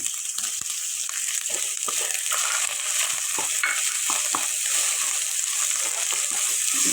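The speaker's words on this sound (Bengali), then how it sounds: "আদার ঝাঁক রসুন ঝাঁকটা যেতে হবে তো তার জন্য একটু ভালো করে ভাজতে হবে" Ginger-garlic paste frying for chilli chicken makes a loud, dense, continuous hiss and sputter close up, with light stirring taps underneath and no talking.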